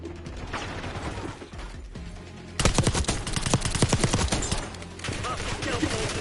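Sustained automatic gunfire from an enemy sentry turret in Call of Duty Black Ops 6, starting as a muffled rattle and breaking into a loud, dense burst of rapid shots that keeps going, with a voice speaking near the start.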